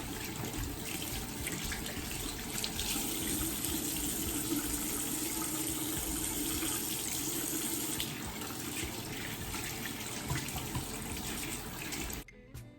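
Warm tap water running steadily into a sink for rinsing a turmeric face mask off, a continuous close gushing stream that cuts off abruptly near the end.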